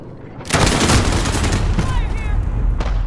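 A shotgun fires in Call of Duty with loud, close blasts over continuous gunfire and battle noise in a team deathmatch.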